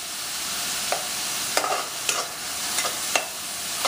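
Onions frying over a medium flame while a spatula stirs them, a soft continuous sizzle broken by several sharp scraping strokes against the pan, close and alone without speech.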